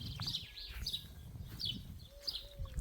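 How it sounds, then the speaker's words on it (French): Small birds chirp and whistle in a garden after rain, a few bright repeated calls near and far over a soft low ambient rumble. "Oh, ce chant des oiseaux là."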